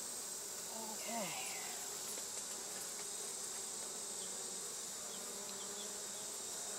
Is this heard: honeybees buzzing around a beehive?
yes